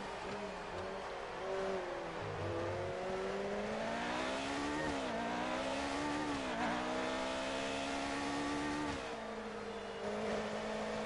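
McLaren Formula 1 car engine in the F1 2019 racing game at the Japanese Grand Prix, a loud continuous high-pitched whine rising and falling through gear changes, close and steady throughout with no talk.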